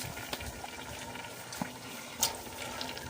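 First-press coconut milk pours into a pot of cooking jackfruit with a soft, steady liquid splash over a low background hiss, close but quiet, with a small clink partway through.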